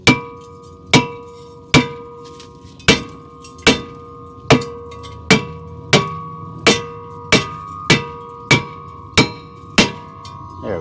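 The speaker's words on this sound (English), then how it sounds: "But usually the sledgehammer will get it" A sledgehammer pounds a rusted front brake rotor on a 2015 Toyota RAV4 XLE AWD, about fourteen loud metallic clangs with ringing tails, struck at a steady rhythm that quickens toward the end.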